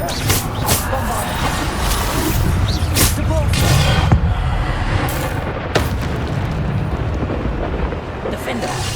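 Bombarda blasting spells in Hogwarts Legacy thunder through a dense, continuous battle din, with repeated heavy booms and sharp cracks stacked close together, loud and near, while voices shout over the chaos.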